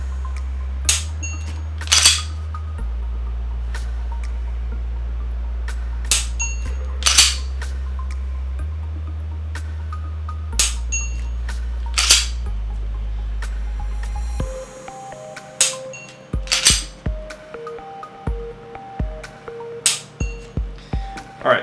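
Dry-fire shots with a Mantis X10 Elite training system, sharp snapping clicks spaced a second or two apart over low electronic tones and hum, then a denser cluster of clicks at the end.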